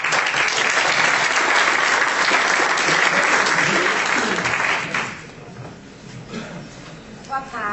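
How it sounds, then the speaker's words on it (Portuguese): An audience applauds a speaker at a talk on feminine archetypes, with steady loud clapping that fades after about five seconds into scattered claps and murmuring. "uma salva de palmas para ela"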